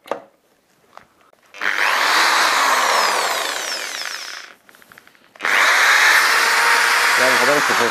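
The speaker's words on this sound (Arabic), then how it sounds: "تعالوا نشوف هيشغل الشنيور ولا لا." An electric drill powered through a solar inverter whirs loudly in two sustained runs, spinning up after a quiet start, briefly dropping, then restarting at full speed.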